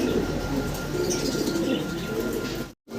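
A pair of Danish pigeons coos in a pigeon house, soft low calls over a steady, noisy background that cuts out abruptly near the end.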